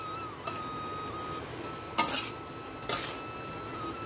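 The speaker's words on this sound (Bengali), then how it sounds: "এটা আমাদের কিছুক্ষণ নাড়িয়ে চাড়িয়ে শাকটাকে রান্না করে নিতে হবে" Malabar spinach cooks in a pan as a utensil stirs it, a quiet steady background hiss broken by a few soft clinks and two brief louder scraping stirs.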